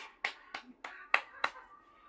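Five sharp hand claps ring out one after another at a fairly even pace, close and crisp against a quiet room, with no talk over them.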